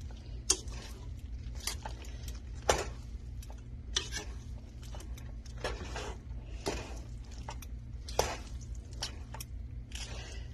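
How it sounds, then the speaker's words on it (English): Carrots and mushrooms are tossed with pasta in a pan for vegetarian teriyaki noodles, giving quiet, irregular scrapes and soft clinks of a utensil against the pan over a low, steady background. "I'm going to incorporate them all together, combine them with the pasta"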